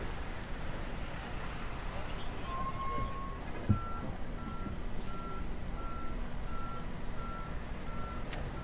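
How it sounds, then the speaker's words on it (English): A fire truck backs up at a scrapyard fire, sending out a steady series of evenly spaced reversing beeps over a constant engine and roadway rumble, with one sharp knock and no nearby talking. "now we've got another fire truck moving through the scene there"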